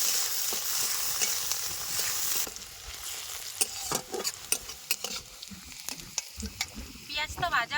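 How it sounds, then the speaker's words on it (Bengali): Chopped onions frying in oil in a karahi at a riverside village cook-up, a hissing sizzle at first, then a series of sharp stirring scrapes and clinks against the pan. "পেঁয়াজটা একটু ভাজা ভাজা করে নেবো"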